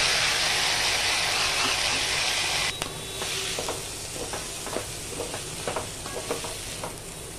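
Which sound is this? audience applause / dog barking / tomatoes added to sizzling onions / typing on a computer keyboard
tomatoes added to sizzling onions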